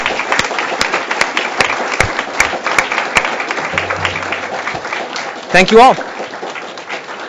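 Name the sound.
audience applause for award winners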